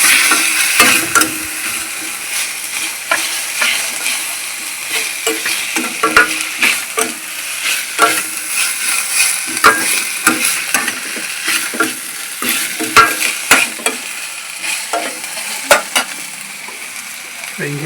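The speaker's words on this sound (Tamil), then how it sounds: "ஆனியன் வதங்கினதுக்கப்புறம் இஞ்சி பூண்டு பேஸ்ட் போட்டு வதக்கிடுங்க" Ginger garlic paste sautéing with onions in a pan, a loud, close, steady sizzle with frequent rapid clicks and scrapes of a spatula stirring throughout, no voices.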